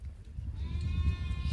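Sheep bleating among a herd kept by Bakarwal herders, a drawn-out nasal bleat rising over steady low rumbling background noise, fairly close.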